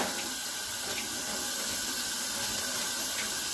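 A kitchen tap runs in a steady hissing stream into the sink while wild onions are rinsed, the flow constant and close.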